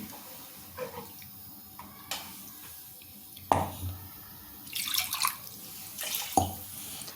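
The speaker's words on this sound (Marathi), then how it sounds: "मगाशी ज्या भांड्यामध्ये मी वाटण केलं होतं ते जरा धुवून त्यात पाणी घालते" Water poured into a rinsed pot that held ground masala paste, for misal curry, close splashing and trickling in uneven bursts with light clinks of the vessel in a quiet kitchen.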